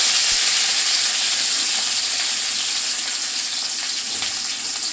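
Garlic, onion and curry leaves sizzling in hot oil with popped mustard seeds in a kadai, a steady, loud, hissing fry that holds evenly throughout with no talking.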